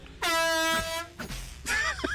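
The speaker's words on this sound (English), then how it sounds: "The air horn is in the game." A loud, blaring air horn blast in the video game Valorant, lasting about half a second, followed by brief voices and some noisy activity.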